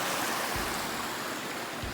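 A creek flowing beside a campsite in the Mt Hood Wilderness, a loud, steady rushing wash of water close by with a faint low rumble underneath.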